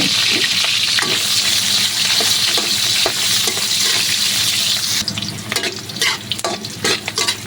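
Onion and garlic sautéing in hot oil in a wok, making a loud, close, continuous sizzle with stirring, which turns into choppier, intermittent scraping and spattering in the last couple of seconds; no talking.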